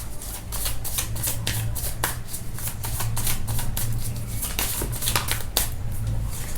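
Tarot cards are shuffled close by in a long, steady run of crisp riffling flicks and snaps, loud and rhythmic with no talking over them.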